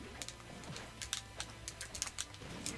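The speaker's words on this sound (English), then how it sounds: "if you hear clicking in the background, it's because I'm playing on the GameCube controller" Rapid clicking of GameCube controller buttons during Super Smash Bros. Wii U play, a steady scatter of light plastic clicks over faint game music.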